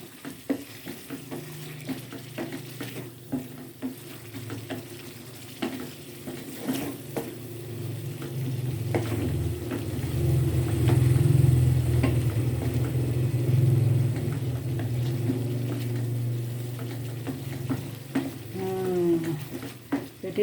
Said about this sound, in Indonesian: Kalau minyak sudah masuk, kita tumis sampai dia kering.